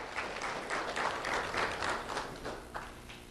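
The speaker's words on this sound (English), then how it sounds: "Round of applause for JT." Moderate applause at a sheriff's office community recognition event, with individual claps distinguishable in uneven bursts and swells, fairly quiet and without talk.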